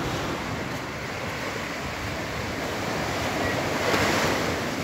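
Ocean surf rolls steadily onto Sual Beach, Pangasinan, a continuous broadband wash of breaking waves with light wind noise, swelling a little near the end and heard alone without voices.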